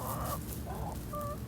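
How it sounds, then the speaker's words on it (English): Chickens clucking on a farm, several short clucking calls in a row at moderate volume over steady background noise, with no talk. "You hear them clucking away?"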